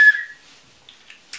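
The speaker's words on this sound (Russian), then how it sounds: "Ну и свисток." A small signal whistle from a travel kit gives one short, sharp, loud blast, followed by faint brief chirps and rustles.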